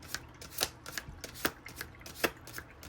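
Tarot cards being shuffled by hand in a series of crisp, riffling bursts and soft flutters, close up and fairly quiet, with no talking over them.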